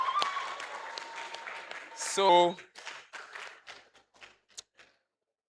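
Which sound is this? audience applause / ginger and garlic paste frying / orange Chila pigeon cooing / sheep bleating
audience applause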